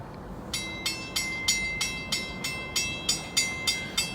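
A southbound train passes nearby, with an even, rhythmic series of about a dozen bright metallic clacks repeating roughly three times a second over a low rumble.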